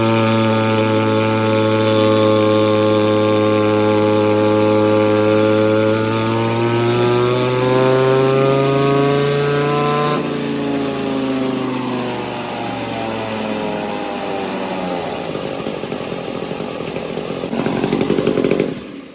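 An Echo 2511 clone chainsaw engine, fitted with a modified exhaust and advanced timing, screams loud and steady on a dyno, its pitch sagging and then climbing under load, with no voices.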